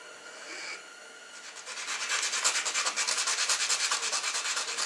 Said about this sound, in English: So I just want to file it off just enough to get those burrs off of it.